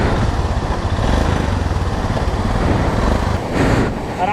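Royal Enfield Himalayan motorcycle engine running steadily and loud close by as it is pushed across a mountain stream in Ladakh, a continuous rough rumble with rushing water mixed in.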